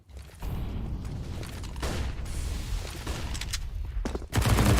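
Rapid gunfire from a Counter-Strike match with an MP9 scoring a double kill, heard as dense bursts of shots and mechanical clatter that stay loud throughout and build into a heavier burst at the end.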